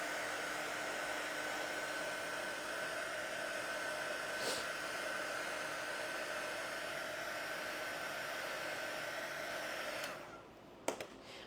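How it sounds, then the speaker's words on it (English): Steady, close hair dryer whirring continuously for about ten seconds as it dries fresh paint on a wooden snowman porch leaner, then switching off into quiet room tone with a few faint handling clicks. "I'm going to dry it first, and then you can't even tell."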